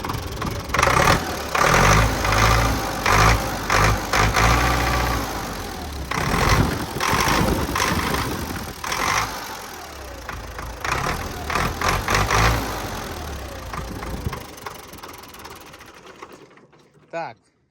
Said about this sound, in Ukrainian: Тепер слухаємо звук мотора.